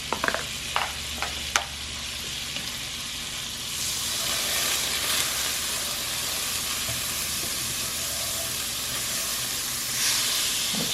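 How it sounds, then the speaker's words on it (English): Butter melting in a pan as the base of a sauce, a soft continuous sizzle and hiss that swells slightly partway through, with a few clinks of utensils early on and no talking. "to make the sauce, we're going to put some butter and let that melt"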